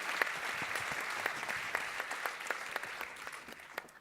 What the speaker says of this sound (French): Ouais, on applaudit Judith.